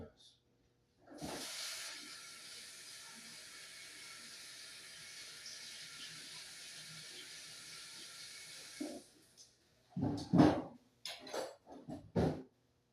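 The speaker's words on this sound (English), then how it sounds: "Let these bad boys sizzle." A steady, loud hiss of food sizzling in a pan fills most of the stretch, then fades out as a person starts talking briefly.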